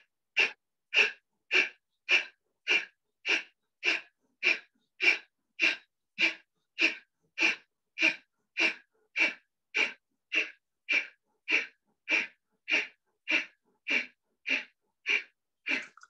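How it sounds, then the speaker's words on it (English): Kapalbhati breathing exercise in a yoga session for weight loss: sharp forceful nasal exhalations repeat about every 0.7 seconds, evenly paced and close, with nothing else audible. "Breathe out completely and put the right hand on the liver, left hand to the spleen, and you go down and do Kapalbhati for 30 seconds"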